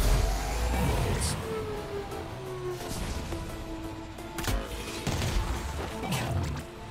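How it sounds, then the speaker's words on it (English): A futuristic racer in the Wipeout Omega Collection fires rockets, giving several sharp blasts and crashing impacts over a steady engine drone, with whooshing sweeps between them. "Rockets."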